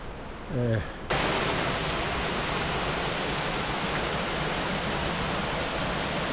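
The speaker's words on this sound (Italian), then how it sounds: "iniziamo a vedere le prime cascate" The Salton cascade near Lamon in Veneto roars as a steady, loud, broadband wash of falling water, filling the scene without break after a brief voice at the start.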